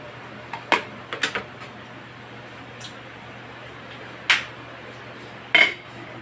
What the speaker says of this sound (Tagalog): Isusunod po natin yung okra. Okra, lalagay na po natin siya.